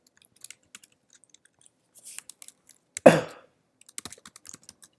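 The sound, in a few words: typing code on a computer keyboard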